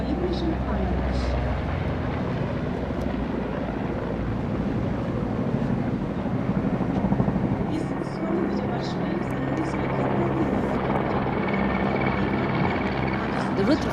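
Helicopters fly past in the Rudra formation at a Republic Day flypast, a steady rotor drone and wind-buffeted roar that stays continuous under a commentator's voice.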